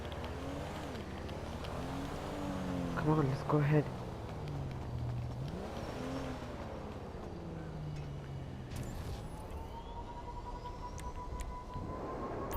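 A car engine in GTA Online hums and revs steadily beneath casual talk from several voices, with a brief louder rev partway through and a rising tone toward the end.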